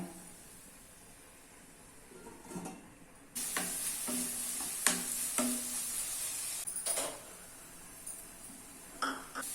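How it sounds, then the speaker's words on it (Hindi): Chopped onions sizzle steadily in a pan on a medium flame for paneer masala, with clinks and scrapes of a spoon stirring them at intervals, close and clear, growing louder after the first few seconds. "अभी इसको मीडियम फ्लेम पे लगभग 4 से 5 मिनट तक फ्राई कर लेना है"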